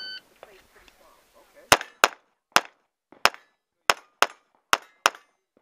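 A Walther PPQ 9mm pistol fires at steel targets, eight sharp shots with ringing impacts spaced about half a second apart, loud and close, after faint background voices.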